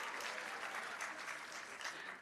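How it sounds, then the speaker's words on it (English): Graduation audience of parents, teachers and alumni applauding for the class of 2022, a dense, steady wash of clapping that fills the whole short stretch at fairly low level without break. "Yes, applause."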